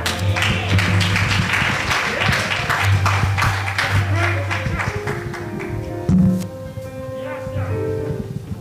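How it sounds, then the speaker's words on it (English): A church congregation at a summer revival service claps their hands in praise, a sustained, fairly loud patter of many hands with voices mixed in underneath. "Come on and give God a hand clap of praise."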